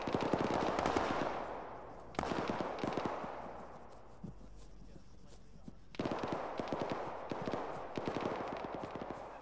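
Gunfire crackles in an Arma ShackTac co-op session, quick repeated shots in bursts that rise and fade, fairly distant and soft, with occasional voices in between.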